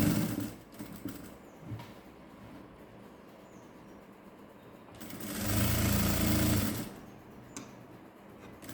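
A sewing machine runs a strong finishing stitch along the folded edges of Patiala pants, with soft handling noises at first and then a loud, steady whirring burst of about two seconds, close up and without talk.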